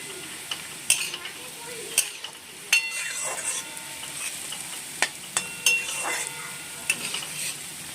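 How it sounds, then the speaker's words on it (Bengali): Potatoes and peanuts frying in a pan for chire polao sizzle softly while a utensil stirs them, scraping and clinking against the pan every second or so, fairly close and moderately quiet. "আলু বাদামটা ভালোভাবে নাড়াচাড়া করে নিলাম।"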